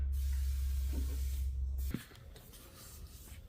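A spray can hisses in a steady burst for about two seconds, then cuts off, leaving faint rustling behind.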